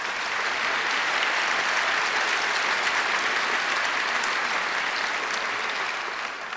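Loud, dense audience applause in an auditorium during a debate on Iraq and the war on terror, a steady roar of clapping that holds for several seconds and then begins to fade.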